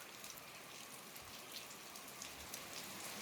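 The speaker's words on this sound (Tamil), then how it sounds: "கண்டினியூஸாக மழை பெஞ்சிக்கிட்டே இருக்குது" Continuous rain falls in a foggy forest, a dense, even hiss of drops on leaves and surfaces, steady throughout with no voices.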